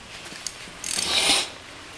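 A 10 mm wrench tightens a battery terminal on a positive post, giving a short metallic ratcheting burst after a faint click, close and alone without talk.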